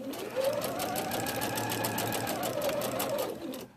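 A sewing machine runs continuously for nearly four seconds, stitching to the edge of a pillow case and then backstitching, with a close, even mechanical whir and rapid needle clatter.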